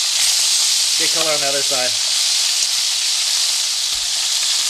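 Meat browning in a frying pan gives a steady, loud sizzling hiss throughout, with a voice speaking briefly over it near the start.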